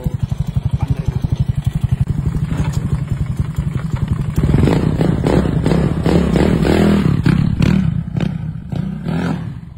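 Yamaha Mio Sporty or Soulty scooter with a broken CVT running close by, a steady rapid putter that turns rougher and louder as the revs rise, with clattery knocks over the engine roar.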